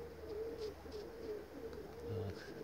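Pigeons coo softly in repeated low, rolling phrases from a short distance, with faint background ambience and no clear speech.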